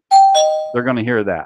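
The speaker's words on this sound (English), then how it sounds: "That's our doorbell." A two-tone studio doorbell chime rings on a talk show, a clear ding-dong, followed immediately by someone speaking.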